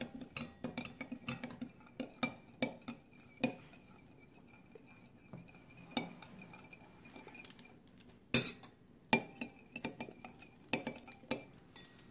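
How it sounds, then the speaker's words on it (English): A spoon stirs sugar into water in a glass, ringing out in sharp, bright clinks that come in irregular clusters, some rapid and some spaced, close and clear with no talking. "now I'm gonna have to add more sugar. I think another spoonful would do"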